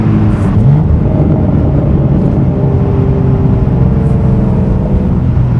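BMW M2 G87 fitted with an AWE SwitchPath exhaust in Sport mode with M sound on, giving a short throttle blip: a steady, loud, low engine rumble and whir that holds through the whole stretch, no voices over it.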